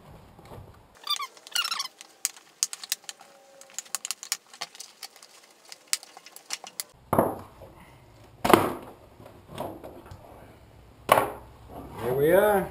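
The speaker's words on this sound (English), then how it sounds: "now I'm just gonna use a chisel to pry it up like this" A chisel pries up a plastic car door panel, with sharp clicks and small scraping ticks up close, followed by louder cracking snaps as the plastic studs let go, and brief voices in between.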